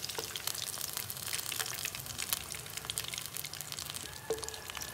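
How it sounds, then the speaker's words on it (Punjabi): Fish pieces frying in hot oil, a continuous crackling sizzle with scattered sharp pops and spits throughout. "ਜਿਹੜੇ ਪੀਸ ਰਹਿ ਗਏ ਨੇ ਜੀ ਉਹ ਅਸੀਂ ਉਹਨਾਂ ਨੂੰ ਵੀ ਫਰਾਈ ਕਰ ਲਵਾਂਗੇ"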